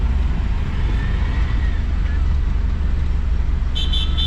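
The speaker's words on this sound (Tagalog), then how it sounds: "Traffic na nga dito eh." Dense road traffic rumbles steadily in a low, continuous drone from nearby vehicles on a congested road, with a brief high horn-like beep near the end.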